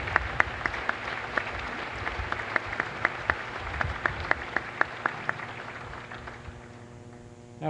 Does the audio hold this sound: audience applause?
yes